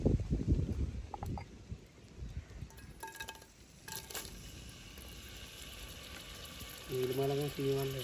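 Dried prawns fry in hot oil in a pan, giving a loud, steady sizzle broken by scraping stirs, and a short voice-like tone near the end.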